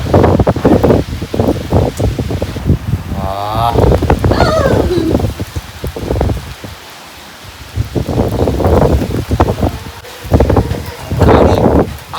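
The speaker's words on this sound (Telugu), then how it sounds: "గాలి" Wind blows through leaves in a village setting, a sustained loud rustling that swells and fades over the whole stretch, with faint voices mixed in.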